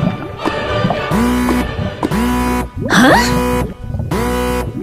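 An alarm goes off in the Minecraft video game, a loud, steady repeating blare with rising tones that pulses in regular bursts about once a second, and a brief voice is heard reacting over it.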